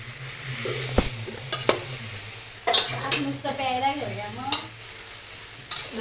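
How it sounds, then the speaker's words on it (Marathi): Jackfruit vegetable dish is stirred in a pan, with scraping spoon strokes and clinks of metal against the cookware over a soft sizzle, and a voice briefly heard in the background. "आणि आता याच्यात आजीने टाकलंय फणस. मिक्सिंग करते गाईज एकदम मस्तपैकी."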